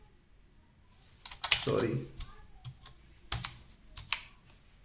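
Quiet clicking keystrokes on a computer keyboard come in a few short, scattered bursts, close and faint, while someone speaks briefly.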